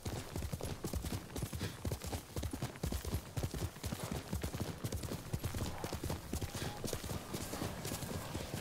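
A horse gallops in the Ghost of Tsushima video game, rapid rhythmic hoofbeats pounding continuously and close, with faint background game ambience.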